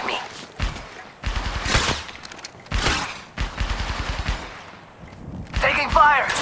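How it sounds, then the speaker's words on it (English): Gunfire in the Apex Legends Mobile video game comes in loud, close bursts of rapid shots separated by short pauses, with a final crackling volley near the end. "They're shooting at me."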